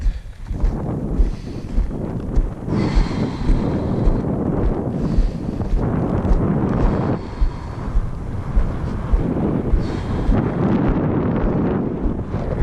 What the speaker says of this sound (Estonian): Tuul.